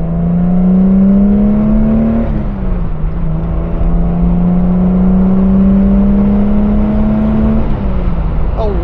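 A Leyland Marina fitted with a six-cylinder engine, driven and revved hard, its loud, steady engine drone climbing in pitch through two long pulls with a brief dip at each gear change.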